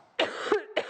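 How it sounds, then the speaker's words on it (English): A single short cough with a throat-clearing quality, close and fairly loud, breaking into a presenter's talk on a quilting and sewing show. "Oh, silly cough."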